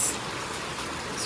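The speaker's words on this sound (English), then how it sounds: "It's raining, guys." Steady rain falls in the afternoon, a dense even hiss of drops on surfaces, moderately loud and continuous with no voices over it.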